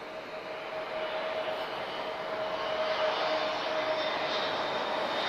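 A TAP Air Portugal Airbus A320neo airliner arriving at Lisbon Airport from Marrakesh, its engines producing a steady, fairly distant roar with a faint whine that swells slightly as it passes, heard alone.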